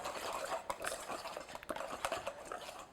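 Wire whisk stirring caramel in a pan, faint repeated metallic scraping and light clinks in an irregular rhythm, close and quiet with no talk.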